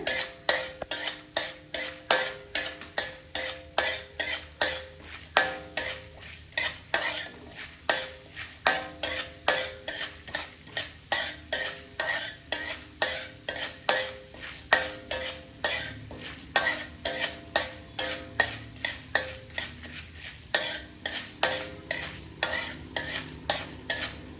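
Curry leaves and other powder ingredients stirred and dry-roasted in a pan over low heat, with steady rhythmic scraping strokes of a spoon against the pan and a soft sizzle throughout.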